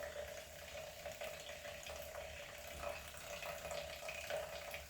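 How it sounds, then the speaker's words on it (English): Solution in a glass beaker fizzing steadily as CO2 bubbles escape while sodium chloride is being made, a continuous close crackling hiss with no talk. "So this does bubble like crazy,"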